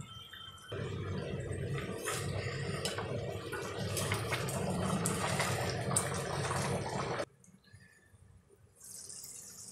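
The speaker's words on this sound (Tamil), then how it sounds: "குழம்பு கொதிக்குதுங்க" Tamarind gravy (sundakkai puli kuzhambu) with small turkey berries bubbles in a pot on the stove, a steady close bubbling and simmering that runs for several seconds and then drops away to a faint hiss near the end.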